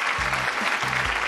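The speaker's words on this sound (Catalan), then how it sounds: "Que passi amb un fort aplaudiment, Naina Campaner." An audience applauds a singing competition finalist with a continuous burst of dense clapping, while low tonal sounds pulse twice underneath.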